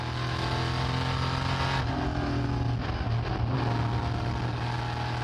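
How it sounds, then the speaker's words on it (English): Onboard sound of the number 66 EuroNASCAR race car at a NASCAR GP UK round, its V8 engine roaring loud and close, pitch shifting through gear changes and revs. "we now dive on board the number 66 car in the hands of the 19-year-old Belgian, Simon Palat."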